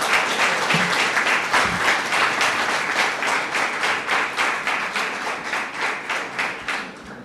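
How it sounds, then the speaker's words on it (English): An audience at a public consultation on electoral reform in the Kalinago territory breaks into sustained applause, dense rhythmic clapping that holds steady and then slowly thins out. "So we can applaud that again."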